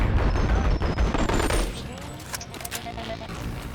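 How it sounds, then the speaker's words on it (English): Several test shots from an M16 rifle fired without iron sights, sharp loud reports in a quick burst at the start, then fading to quieter handling noise with a final faint pop. "I just fire normally with a few testing shots first"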